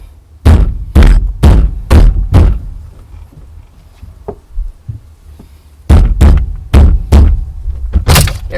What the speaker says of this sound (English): So pull it, kind of bump it back and forth.